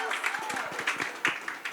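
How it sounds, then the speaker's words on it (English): Applause from an audience at a justice policy roundtable held in a Detroit jazz cafe, a short burst of scattered clapping with crowd voices mixed in. "There's a round of applause."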